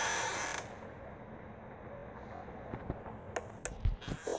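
Door check in the video game Five Nights at Freddy's 4, a faint hollow ambient hiss followed by several soft creaks and mechanical clicks near the end, with no voices.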